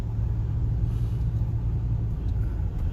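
A semi-truck rumbles low and steady in traffic as it makes a left turn on Bridge Street, a heavy idling drone nearby with no voices.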